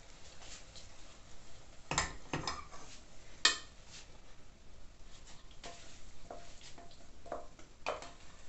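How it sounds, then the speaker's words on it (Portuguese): A cooked sweet is moved from a pan into a bowl, with scraping, stirring and soft clinks of a utensil against the cookware, a couple of sharper knocks and a faint sizzle underneath. "Agora eu vou tirar da panela e vou passar para"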